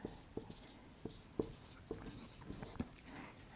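A teacher writes notes on a board during a chemistry lesson on bond strength, producing a run of soft, uneven taps and scratches of chalk or marker, fairly close and quiet, with no talking.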